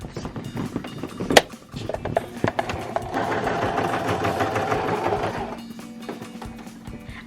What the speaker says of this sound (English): Now I'm just gonna sew straight down.